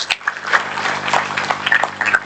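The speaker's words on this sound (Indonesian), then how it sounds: "mari kita berikan tepuk tangan yang meriah untuk ketiga narasumber" Audience applause for three panel speakers at a discussion forum, a dense, steady patter of clapping that fills the short moment at moderate loudness, with faint background hum.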